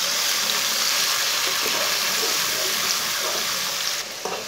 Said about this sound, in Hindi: बारीक कुटा हुआ लहसुन डाल लेंगे, एक बारीक कटा हुआ टमाटर डाल लेंगे, तीन सब्ज मिर्च डाल लेंगे, दो तीन मिनट के लिए भून लेंगे।